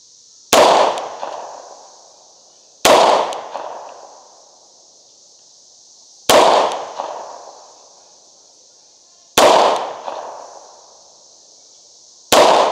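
Five loud gunshots from a Tisas B9R double-stack 1911 pistol fired at an outdoor target, spaced a few seconds apart, each a sharp crack with a ringing decay, over a steady high-pitched whine.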